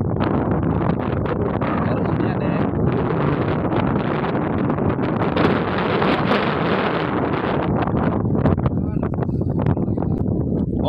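Strong wind at sea buffets the microphone during a fishing trip from a boat, a loud, continuous roar and rumble with rushing gusts that never let up.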